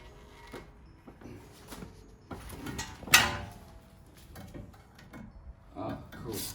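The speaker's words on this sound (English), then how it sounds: "caliper bracket comes off." The brake caliper bracket is pulled off a BMW E92 335i, making close metallic clunks and scrapes. One sharp knock stands out, and a little speech can be heard in the background.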